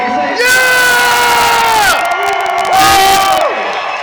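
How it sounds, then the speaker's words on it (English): A rally crowd in London's Victoria Park cheers and shouts loudly in support of the police, with whoops and yells rising in two strong surges over about four seconds. "Let's hear a round of applause for the police."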